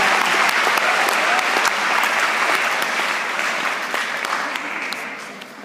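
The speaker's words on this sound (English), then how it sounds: "So let's have a warm round of applause." An auditorium audience at a school technology conference closing ceremony applauds high school students coming on stage, a dense, steady roar of many hands clapping that fades slightly toward the end.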